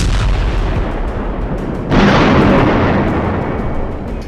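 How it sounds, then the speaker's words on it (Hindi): Israeli bombing and artillery fire in Gaza: a loud, heavy blast erupts midway over a dense rumbling background, then slowly fades. "जिस वक्त गाजा पर इजराइल की वायुसेना टनों टन बमबारी कर रही है"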